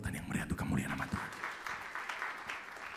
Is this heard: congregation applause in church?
yes